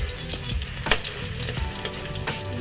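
A ginger dish fries in a pan, with a steady close sizzle and crackle plus a few sharper pops and stirring scrapes, and no talking.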